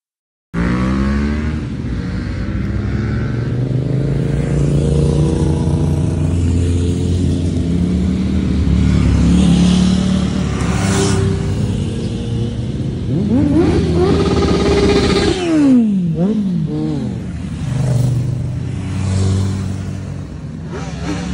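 Several motorcycle engines rev loudly and repeatedly, pitch surging up and down in bursts, close by and continuous.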